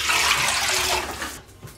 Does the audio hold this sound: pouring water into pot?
yes